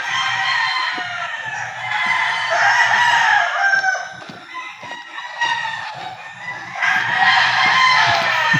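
Roosters crowing repeatedly alongside clucking chickens, loud and close, overlapping calls with scattered farmyard rustle and no talk.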